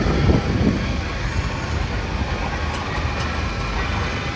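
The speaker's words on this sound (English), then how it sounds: "Peter Pan, heavy duty road loco." A heavy duty steam road locomotive rumbles past in a steam rally parade at Scampston Hall, a loud continuous low chugging and rolling roar with outdoor crowd ambience.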